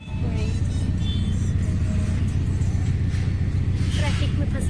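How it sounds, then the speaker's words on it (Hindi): Steady, dense road traffic in a crowded evening street, cars and other vehicles rumbling and whirring continuously at close range with no break, while people talk over the din. "ट्रैफिक में फंसी हन संगवारी हो घर जाना।"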